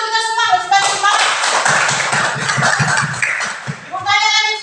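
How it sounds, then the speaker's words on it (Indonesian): A classroom of pupils claps hands together in a quick rhythmic burst, sharp close slaps in a roughly steady beat, with a teacher's voice speaking before and after the clapping. "Tepuk tangan untuk kita semua, supaya semangat."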